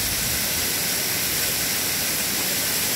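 Devichi Kosy waterfall roaring as a steady, dense rush of falling water, loud and close, continuous for the whole stretch with no voices.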